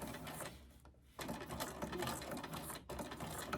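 Domestic sewing machine stitching paper and fabric tags, steady close whirring runs broken by two short pauses as the work is shifted for overlaid stitching.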